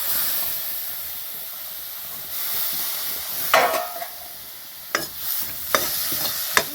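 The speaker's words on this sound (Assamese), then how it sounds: "এতিয়া অকণমান ভাজিছোঁ আৰু কম কমকৈ ভাজা খালি বেছি হ'লেও বেয়া নহয়" Sesame seeds, coconut and chickpeas frying and being stirred in a wok over a fire, a steady close sizzle and hiss broken by sharp scraping stirs near the middle and end.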